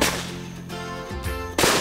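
A 16-shot fireworks cake, the largest on hand, fires at an outdoor park in loud, sharp cracking blasts in quick succession, alone with no talk.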